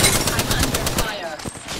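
Gunfire in Apex Legends, a rapid burst of loud, close automatic shots that cuts off partway, followed by a few scattered shots and game effects.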